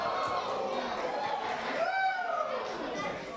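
Wrestling crowd at a VI Pro Wrestling event chanting for Krofton, a steady roar of many voices with rising chant tones, heard under a commentator's voice.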